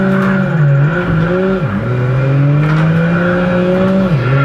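A race car in Project Gotham Racing 2 roars loudly and steadily, its engine pitch rising through the gears and dropping sharply as it shifts, with a faint tire squeal.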